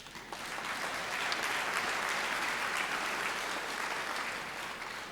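A large audience at a university summer graduation ceremony in Pretoria applauds, a dense, steady wash of clapping that swells quickly and holds at full strength throughout.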